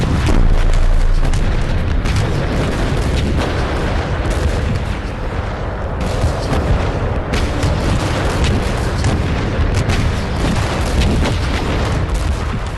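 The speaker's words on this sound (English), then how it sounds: "Sergeant Tawney witnessed the final frenzied bombardment of the German line." Heavy artillery bombardment of the German line at the Somme, a dense continuous barrage of deep booms and rumbling blasts, loud and overlapping with no break, no voices.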